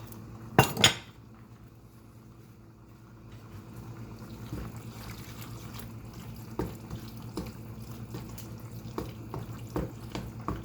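Spaghetti sauce being stirred in a pot, with a pair of sharp utensil clinks against the metal near the start, then soft scraping and occasional light taps over a low steady kitchen hum.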